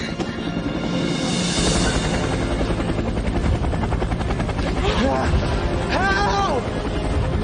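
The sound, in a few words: helicopter flying overhead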